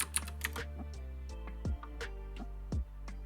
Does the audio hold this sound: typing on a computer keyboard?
yes